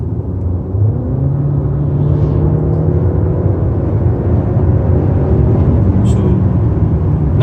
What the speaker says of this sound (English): I give it some gas and listen to the turbo lag already.